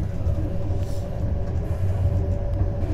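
A PKP Intercity train hauled by an EP08 locomotive rumbles along the rails, a steady, loud, low-pitched roar of wheels and carriage that runs unbroken throughout with no talk.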